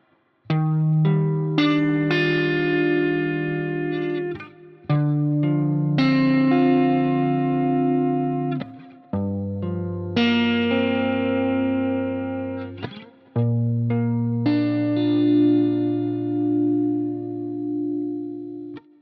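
Electric guitar chords picked string by string, each chord rolling upward and ringing out, with short gaps between chords, loud and up close.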